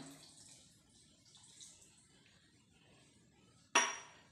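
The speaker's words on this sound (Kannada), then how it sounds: "ನೀರು ಪಾಡೊಂದು" Water is poured into clam batter ready for grinding, a short, loud splash arriving suddenly after near silence.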